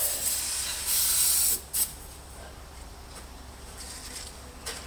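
Aerosol spray squirted liberally onto the CV joint of an S-reg Ford Fiesta: a bright hiss lasting about a second, then a short second spurt, followed by faint brief bursts over quiet background.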